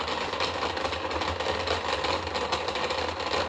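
Two heavy electric motors, each about 15 to 20 pounds, intended to power a homemade sanding robot, running steadily with a constant close whir and a low mechanical hum, no talking.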